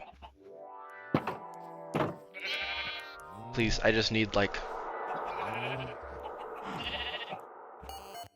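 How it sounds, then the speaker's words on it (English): Minecraft sheep bleat in a string of repeated wavering calls while grazing on grass, with a soft thunk and someone talking over parts of it. "it's only the sheep that's eating grass"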